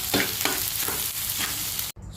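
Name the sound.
frying liver macaroni in a pan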